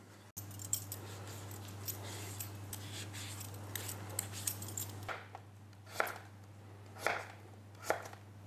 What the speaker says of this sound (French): Moi, ce que je fais pour la papaye verte, c'est que je la coupe d'abord en lamelles.